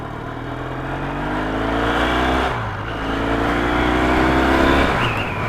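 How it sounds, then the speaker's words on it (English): Yamaha XS650 motorcycle engine with a fault, running and revving in two rising sweeps with a brief dip between them, loud and close with no talk. "engine ain't right for some reason"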